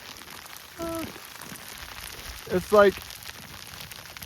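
Freezing rain and sleet patter steadily on surfaces outdoors during an ice storm on the Appalachian Trail, a soft constant hiss beneath a few brief spoken words.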